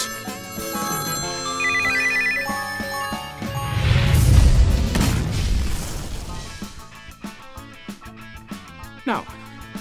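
Mobile phone ringtones trill in a theatre, a melodic electronic ring overlapping with a deep rumbling boom and crowd noise midway, then scattered pops and a rising tone near the end, with voices mixed in.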